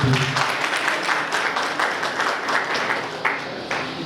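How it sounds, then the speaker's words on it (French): An audience at a conference in Uvira applauds the young Wazalendo, a steady, loud wash of many hands clapping together for several seconds with no break. "Vous pouvez acclamer pour nos jeunes Wazalendo."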